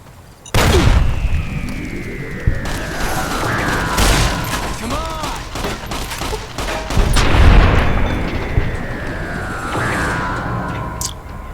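Shotgun blasts boom in a Fallout: New Vegas Mojave firefight, loud close reports with ringing tails spread across the stretch, mixed with game clatter and effects.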